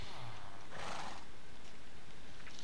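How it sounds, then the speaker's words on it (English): A horse neighs in the Minecraft video game, a single whinny rising near the start and fading out, with light clip-clop and faint background noise around it. "I gotta tie my horse up"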